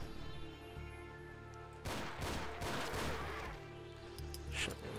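A burst of rapid gunfire from the GZDoom mod Ashes 2063 cracks out over a steady game soundtrack hum, loud and dense for about two seconds before fading back.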